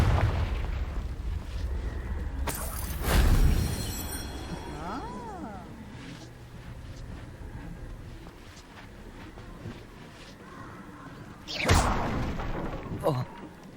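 A Confringo blast spell in Hogwarts Legacy goes off as two booming explosions, one early and one near the end, over the game's ambient sound and a player's voice.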